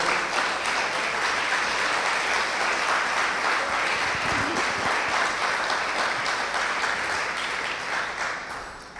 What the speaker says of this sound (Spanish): Sí, aplaude al Señor.